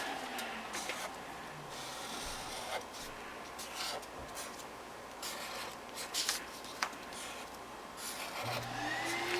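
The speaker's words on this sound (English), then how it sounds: "I think my guys are home and they're starting to vacuum" A vacuum cleaner drones steadily in the background, fairly faint, with scattered rubbing and scraping noises closer by.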